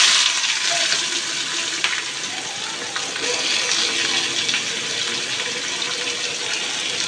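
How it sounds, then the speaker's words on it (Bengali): Chopped onions hit hot oil already holding whole dried red chillies for a Bengali egg curry, setting off a loud, steady, close sizzling hiss that holds throughout. "গরম তেলে দিয়ে দিব 3 থেকে 4টা শুকনো গোটা মরিচ, ফ্লেভারটা ভালো হওয়ার জন্য। এখন দিয়ে দিব আমি কেটে নেওয়া পেঁয়াজ।"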